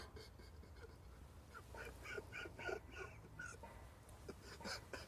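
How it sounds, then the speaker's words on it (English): A duck quacking nearby in a fishing setting, a rapid series of raspy quacks through the middle of the clip and again toward the end, fairly faint over quiet outdoor background noise. "Oh, this duck."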